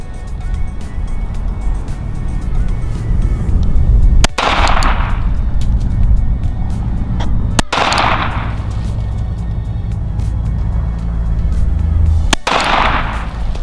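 A small concealed-carry handgun fires three sharp, loud shots spaced several seconds apart, each cracking out over a steady, heavy rumble of outdoor background noise.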